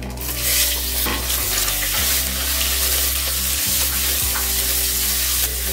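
A single large onion, cut into long thin slices, sizzles loudly in hot oil as it is stirred around the pan, a steady frying crackle with occasional scraping from the spoon.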